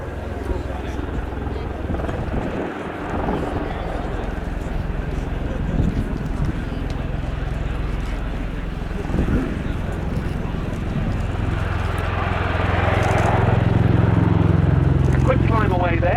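A USAF Bell Boeing CV-22B Osprey tiltrotor at a flight demonstration, tilting its rotors forward into aircraft mode: a steady, distant throbbing rotor drone that swells near the end, with a voice talking over it.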